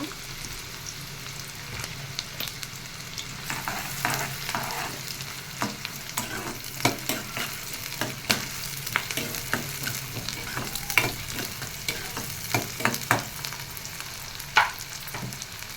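Chopped onions sizzle steadily in hot oil for a potato chicken curry, with a continuous near frying hiss and frequent scraping clicks of a spoon stirring the pan throughout.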